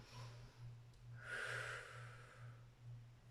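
A person draws a soft breath in during a gentle exercise, a single faint airy inhale in the middle over a low, pulsing background hum.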